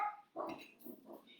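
Small dog barking indoors, a few short yaps and whines at moderate distance, heard on its own without speech.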